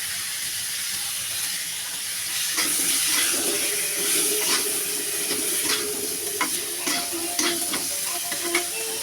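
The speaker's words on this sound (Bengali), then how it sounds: "এখন আমি তেলটা আমার আলুটা ভাজা হয়ে গেছে" Potatoes frying in hot oil for a fish curry with pumpkin wadi, a constant close sizzle and hiss with occasional stirring clicks from a spatula, no voices.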